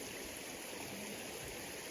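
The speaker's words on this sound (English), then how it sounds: "Kelsey, we were moving rocks to dampen the noise down on the dam right there" Water streams steadily over a small rock dam in a creek at a campsite, a constant close rushing wash with no other sounds.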